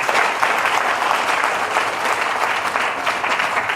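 A crowd at a political launch event applauds continuously, a dense, loud, even wash of many hands clapping throughout with no pauses.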